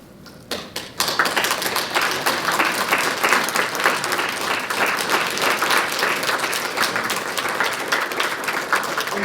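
A burst of crowd applause at a Black History Month celebration rises quickly after a few scattered claps and continues as dense, sustained clapping from a large audience.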